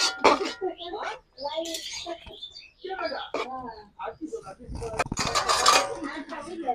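Vegetables seasoned with cumin powder are stirred in a pot, giving intermittent clinks and scrapes of a utensil against metal, mostly under steady nearby talk.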